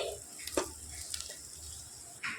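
Ginger, garlic and green chili frying in a pan, a soft steady sizzle with a few scraping stirs and light clinks, quiet and close.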